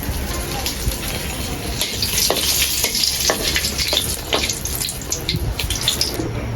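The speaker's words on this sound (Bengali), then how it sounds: "তেল গরম হয়ে গেছে দিয়েছি শুকনো মরিচ তেজপাতা" Dried red chillies and bay leaves crackle and sizzle in hot oil in a pan, a steady, close, continuous frying hiss with sharper pops scattered throughout.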